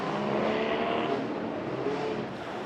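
A small Elfin race car runs through the temporary chicanes of the Victoria Park street circuit, its engine a steady, fairly loud drone that fades slightly at the end.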